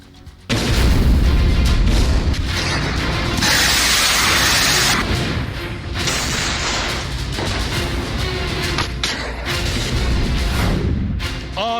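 Heavy booms and blasts from war footage of the Russia-Ukraine conflict, a sustained loud rumble of explosions and crackling fire with sharp bursts throughout, no talking.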